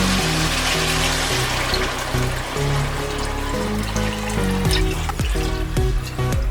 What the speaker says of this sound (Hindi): अभी हम इसमें पानी डालेंगे।